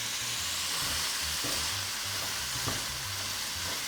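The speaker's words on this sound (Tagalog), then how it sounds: "Ginigisa ko lang to hanggang sa maging light brown na yung kulay ng outer part ng chicken" Chicken pieces sautéing in a pan until lightly browned, producing an even, close frying sizzle with occasional soft stirring knocks throughout.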